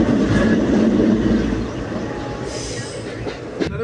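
A Dasara special train from Bengaluru to Mysore rumbles along the tracks, loud and steady, with rolling low-end noise, a hiss of wheels and a brief sharp squeal near the end.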